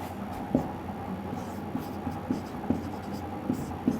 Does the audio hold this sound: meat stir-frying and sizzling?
no